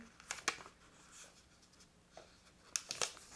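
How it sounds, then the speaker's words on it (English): Origami paper is folded ends-to-center while making a decorative paper tray, giving faint, close crinkling and crisp creasing swipes in a few short bursts against quiet. "Now I'm going to just fold all four ends to the center."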